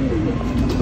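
A pigeon gives a short, low, throaty coo, close and fairly loud, lasting under a second.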